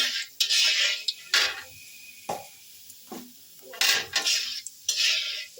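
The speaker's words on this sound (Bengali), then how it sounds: "দিয়ে একটু ভালো করে নাড়াচাড়া করে নেব" A metal spoon stirs black cumin seeds in hot mustard oil in a wok on a gas stove, giving intermittent scraping and clinking strokes with quiet pauses between them, close and moderately loud.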